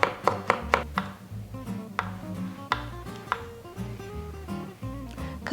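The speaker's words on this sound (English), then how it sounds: "Then finely chop 1 clove of garlic." A clove of garlic being finely chopped with a knife on a cutting board, close, sharp chops coming in quick bursts then a steadier run of lighter taps, with nobody talking.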